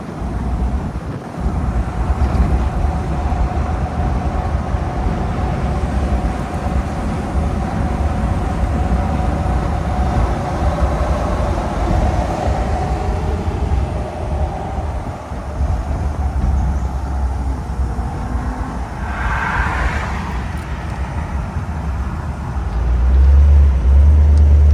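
A 1957 Ford Thunderbird cruises at speed on a freeway, giving a steady, loud low rumble of engine and road noise inside the car that builds slightly toward the end.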